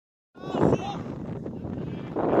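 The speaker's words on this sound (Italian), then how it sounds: "Io non so quanto si senta la mia voce con questo vento." Wind gusts buffet the microphone at an outdoor amateur football match, a steady rough rumble that runs under a voice for the whole stretch.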